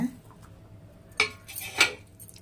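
Metal spoon stirring gravy in a cooking pot, two sharp scraping clinks against the metal rim separated by quieter rustling, close and without talk.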